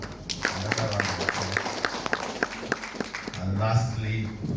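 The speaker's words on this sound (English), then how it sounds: "Let's give a round of applause." An audience at a cohort announcement event applauds, a steady wash of many hands clapping at moderate distance, with a voice talking over the clapping.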